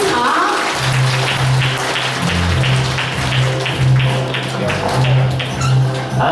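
An audience at a Buddhist hall inauguration ceremony applauds to welcome costumed performers playing an immortal sage and his child attendant onto the stage. Sustained clapping mixes with a steady background tone and some faint voices.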